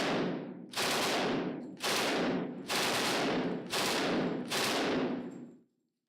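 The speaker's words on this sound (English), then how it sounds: "It's an Auto Ordnance Thompson, chambered in .45." Auto Ordnance Thompson submachine gun chambered in .45 firing five loud, sustained full-auto bursts of roughly a second each, separated by short pauses, with no talking.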